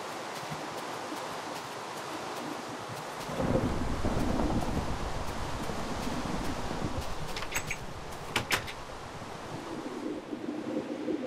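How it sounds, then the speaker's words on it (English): Lightning strikes in Minecraft bring a sudden loud crack that rolls into a long, heavy rumble. A few sharper cracks follow over a steady windy, rain-like background. "that's a lot of lightning"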